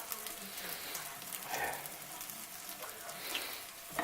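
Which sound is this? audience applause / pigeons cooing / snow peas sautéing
snow peas sautéing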